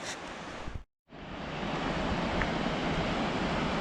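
Steady wind blowing along a forest river trail, a loud continuous broadband rush with a brief dropout near the start, no voices.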